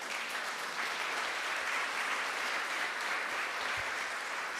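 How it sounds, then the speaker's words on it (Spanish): Church congregation applauding, a dense and continuous wash of many hands clapping for several seconds, fairly distant and even, with no clear speech over it. "¿Usted cree que Dios merece un aplauso,"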